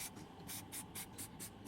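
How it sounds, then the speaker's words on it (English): Liqui Moly cable grease is sprayed into a grommet during a Bentley W12 restoration, heard as a run of short, quiet hissing spritzes in a quick rhythm. "I'm gonna use cable grease, Salfet from Liqui Moly, spritz it inside of the grommet"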